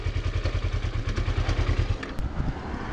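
A Kawasaki Ninja 250R motorcycle engine idles loud and close with the choke on, giving a fast, even thumping pulse that eases slightly near the end.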